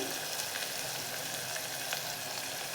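Garlic and green chili paste frying in oil for a tangy Maharashtrian chukka dal, a steady close sizzle with faint crackles running throughout.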